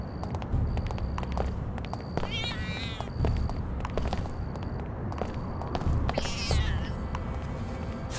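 Two drawn-out cat meows in Deus Ex 2, a few seconds apart, over a busy background of game sounds and faint music.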